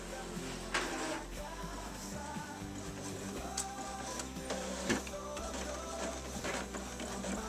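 An Epson EcoTank 2814 inkjet printer runs a nozzle check pattern, giving a steady mechanical whir and hum with repeated carriage shuttling and soft clicks throughout, close and continuous with no talking.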